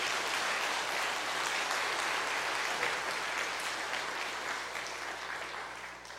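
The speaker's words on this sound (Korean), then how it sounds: "우리 진짜 박수" Church congregation applauding during a Wednesday evening revival service, a quiet, even wash of clapping from a crowd that holds steady and tapers slightly toward the end.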